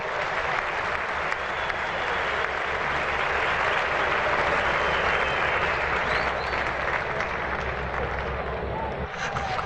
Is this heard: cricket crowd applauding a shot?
yes